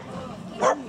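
A single dog bark rises sharply near the end of a short stretch, cutting over steady background chatter from people talking nearby.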